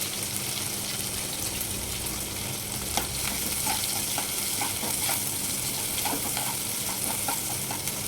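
Chopped onion and green chillies frying in oil in a pan, a continuous close sizzle with occasional spatula taps and stirring scrapes.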